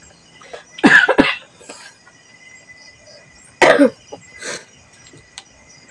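Two loud bursts of harsh coughing, each a quick cluster of coughs close to the listener, separated by a quiet pause with faint background noise.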